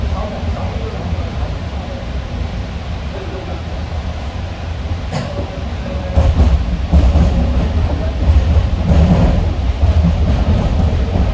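A JFK AirTrain automated train ridden from the head end gives a steady, close rolling rumble with faint rail clatter that grows louder and harsher about halfway through.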